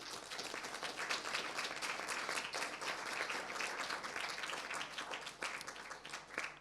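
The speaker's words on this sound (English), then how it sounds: "So big applause for them." An audience at an award ceremony breaks into dense, sustained applause, many hands clapping together at an even level from start to finish.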